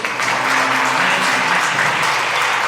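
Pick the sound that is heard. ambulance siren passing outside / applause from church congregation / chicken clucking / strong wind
applause from church congregation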